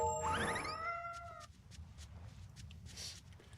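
A cat meows once in a video game dungeon, a short rising and falling cry up front, followed by quiet background ambience.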